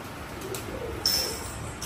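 Pigeons coo softly on a cattle farm, faint and somewhat distant, with a brief chirp over a low background murmur.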